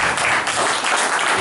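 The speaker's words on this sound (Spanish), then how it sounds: "Gustavo, un aplauso para un gran músico de acá de la ciudad." A live audience bursts into steady, dense applause for a local musician at a concert, close and loud for a brief moment.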